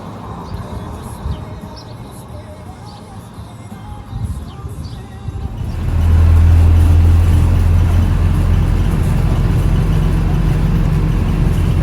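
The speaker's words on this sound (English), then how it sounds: "A typical Mexican bus." A typical Mexican local bus drives along. A quiet background with faint chirps gives way halfway through to a loud, steady, close engine rumble.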